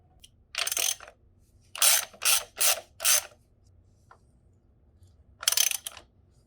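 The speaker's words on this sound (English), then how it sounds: "Now you just got to back out the jacking screw." A ratchet clicks in short bursts while backing out a jacking screw during assembly of a Wired Off-Road GK-85x, with five quick runs of clicking separated by pauses in a quiet space.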